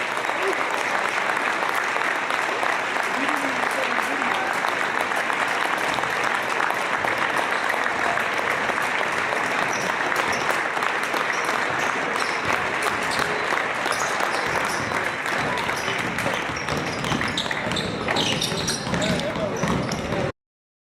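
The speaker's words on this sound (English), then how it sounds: "let's give these Eagles a round of applause" Crowd applauding in a gym at a high school basketball game, loud, dense, sustained clapping and cheering filling the room for about twenty seconds without a break.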